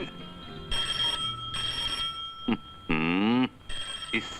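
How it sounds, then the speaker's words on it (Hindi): A telephone bell rings twice in bright, buzzing bursts, close by, followed by a man's brief vocal sounds. "इस टेलीफोन कमबख्त को भी इसी वक्त आना था।"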